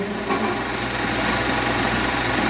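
An Allis-Chalmers WD-45 farm tractor with its Power Crater engine runs at a steady, even drone with a faint knocking vibration, continuous and fairly close.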